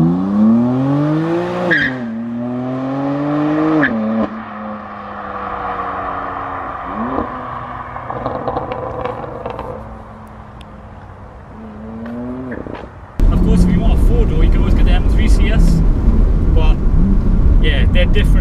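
S55-engined car pulling hard under acceleration, the engine note climbing in rising sweeps through several gear changes before giving way to loud, broadband road and wind roar, heard from inside the cabin.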